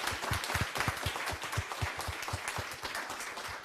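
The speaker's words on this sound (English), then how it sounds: "giving just a heckin' big round of applause to this crew" An audience at a Bisexual Awareness Week evening event applauds a panel, dense clapping with some steady louder beats, fairly quiet and without talk.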